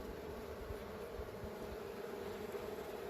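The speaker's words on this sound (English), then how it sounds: "So if you hear that humming noise, they're starting to get irritated." Honey bees from a newly installed package colony humming inside an open hive box during an inspection: a faint, steady low buzzing drone that holds evenly throughout, with no voices.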